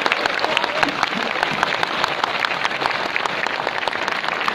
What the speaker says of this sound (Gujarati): જોરથી તાળીઓ પડવી જોઈએ.